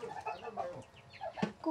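A pet chicken clucks in short, quiet bursts at close range, a choppy irregular series of soft calls.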